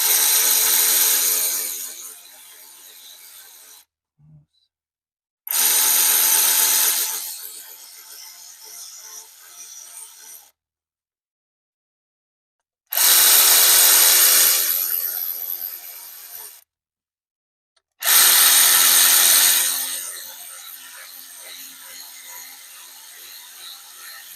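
Right-angle power driver with a T30 bit running injector bolts on a 6.0 Powerstroke engine, four loud whirring bursts of a few seconds each separated by silent pauses, close up.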